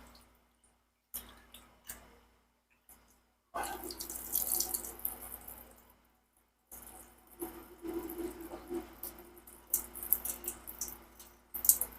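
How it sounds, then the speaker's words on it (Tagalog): Hot water draining off cooked sea moss into a sink, a splashing, trickling pour in bursts with short pauses, close by and moderately loud, with no talking. "Tanggalin ng mainit na tubig."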